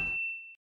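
A single clean notification bell ding rings out bright and clear, then fades quickly into silence.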